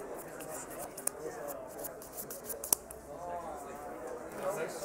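Cards being shuffled for the next game of a Magic tournament match, soft riffling and shuffling bursts with a couple of sharp snaps, heard close and quiet while someone talks.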